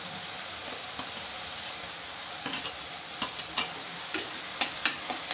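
Onions sautéing in oil with fennel seeds and cumin for a bottle gourd ball gravy: a soft, continuous sizzle broken by light ticking and clinking spoon strokes that grow more frequent toward the end.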